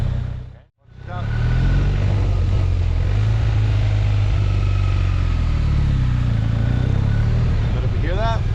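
A motorcycle eases the clutch into the friction zone and pulls away through a turn, its low engine drone steady and close after a brief drop, with a voice talking over it near the end.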